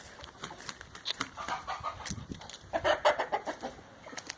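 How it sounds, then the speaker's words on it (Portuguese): Rooster and hens on a farm cluck and call in bursts, fairly close, with a louder cluster of squawks near the end over soft outdoor background. "O galo tá ali."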